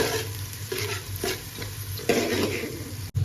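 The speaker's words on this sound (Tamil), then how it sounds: "ஆனியன் நல்லா ஃப்ரை ஆகட்டும்." Onions fry in hot oil for prawn biryani, a soft continuous sizzle with occasional stirring scrapes, close and fairly quiet, with no talk.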